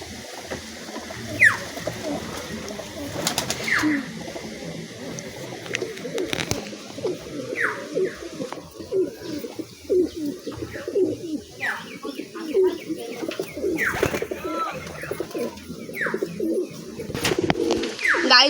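Matrazi pigeons give a continuous chorus of low, bubbling coos, near and steady, with sharp chirps and a few clicks on top.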